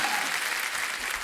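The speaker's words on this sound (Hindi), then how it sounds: "तालियां बनती हैं इनकी फिटनेस पे।" Dense, steady applause from a studio audience at a comedy talk show, close and continuous throughout.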